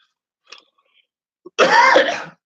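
A single harsh cough bursts out after a few faint clicks and a short throat sound, close and loud, then fades into silence.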